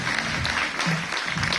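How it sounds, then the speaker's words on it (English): An audience claps steadily at a diamond and platinum carnival celebration, a thick, even wash of applause throughout. "Can we give a round of applause?"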